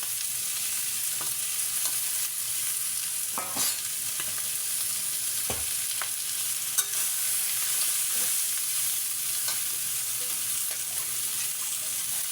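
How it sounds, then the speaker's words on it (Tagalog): Beef frying and being stirred in a pan for a bell pepper beef dish, with a steady close sizzle throughout and occasional scraping and clinking of the utensil against the pan, and no talking. "At ilalagay na natin si beef. Ayan guys, pinirito ko na siya ng kaunti."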